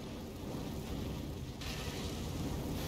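Rain in Elden Ring: Shadow of the Erdtree falls as a steady, soft, even hiss of broad noise with no talking.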